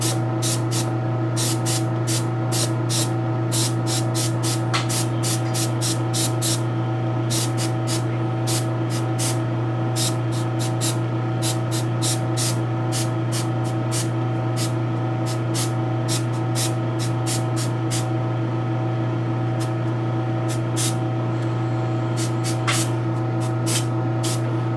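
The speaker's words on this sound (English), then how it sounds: "if you're spraying it this way, and then you turn it, and you turn the spray here and here, it's going to get thick" A spray can or airbrush coating a resin garage kit figure, heard as a steady hiss broken by many short, sharp bursts of spraying at close range, with no talking.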